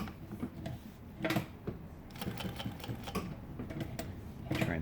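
An industrial sewing machine, a Typical GC6-7-D or Consew P1206RB-1 driven by a servo motor with the pedal pressed fully down, gives off a fast, uneven mechanical ticking and clattering at moderate volume.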